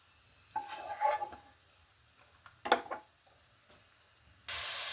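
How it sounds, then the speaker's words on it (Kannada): Grated carrot fries in ghee over a low flame, with two short bursts of stirring and soft sizzling in near-quiet, and a loud steady hiss breaking in at the very end. "ಕ್ಯಾರೆಟ್ ತುರಿಯಲ್ಲಿ ಹಾಕ್ಕೊಂಡು ನಿಧಾನ ಉರಿಲಿ ಫ್ರೈ ಮಾಡ್ತಿರ್ಬೇಕು"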